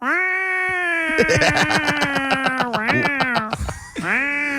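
A human voice mimics a whiny, complaining cat meow on a sports talk show, a long, drawn-out nasal wail that wavers and breaks into a stuttering, pulsing moan before a final rising cry.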